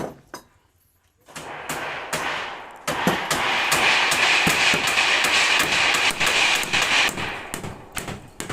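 Hammer blows nail roofing on a house roof, sharp taps at first, then a loud sustained rattle of rapid strikes and clatter dominating most of the stretch, close by.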